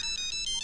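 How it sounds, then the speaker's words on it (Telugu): A telephone rings in a Motu Patlu animated cartoon, giving a bright electronic ringtone of quick, evenly repeating warbling pulses. It is loud and close, with no talking over it, across a brief stretch. "చింగం గారు ఫోన్ చేశారు"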